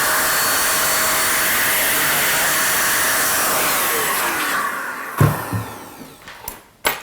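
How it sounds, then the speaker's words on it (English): A hair blower roars steadily while clearing loose hair from an Andis US Pro clipper, then shuts off and winds down, followed by a few sharp clicks and knocks of handling. "I'm using the hair blower now. This basically just clears down any loose hair."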